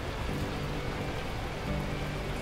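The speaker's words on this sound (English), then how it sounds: "the heavens opened up, unleashing torrential rain" Torrential rain in the video game Beacon Pines, a dense, steady hiss of heavy downpour with no breaks and no voices.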